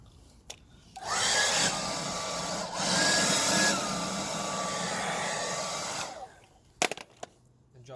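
A heat gun blows steadily while heating vinyl wrap on a car's rear quarter panel, producing a loud, close airy roar that holds for about five seconds, dips once, then cuts off and is followed by a few light knocks.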